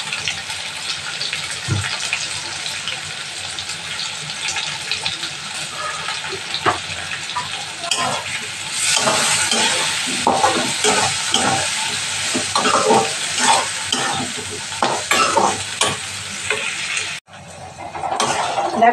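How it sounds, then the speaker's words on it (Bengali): Potatoes and onions frying in a pan, with a continuous loud sizzle and irregular scraping stirs that thicken partway through, followed by a sudden brief drop near the end. "আলুটাও ভাজা হয়ে গেছে হালকা, পেঁয়াজটাও ভাজা হয়ে গেছে।"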